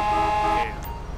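A car horn sounds in GTA San Andreas, a loud sustained harmonic blare that cuts off partway through, leaving low rumbling traffic noise underneath.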